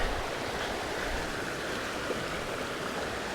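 Surprise Creek rushing beneath a log crossing on a hiking trail, a steady, loud broadband wash of flowing water filling the whole clip with no voices.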